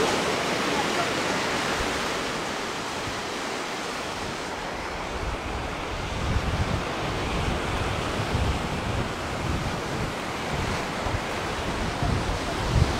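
Sea waves wash onto the long beach at Kumköy, Side, a steady, loud roar of surf with wind buffeting the microphone throughout, no voices heard.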